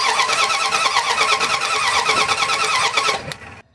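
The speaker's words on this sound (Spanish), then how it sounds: "My friend is gonna crank the engine for me." Dodge Ram engine cranking without starting, a loud, rapid, steady starter churn heard up close for about three seconds before cutting off abruptly into silence.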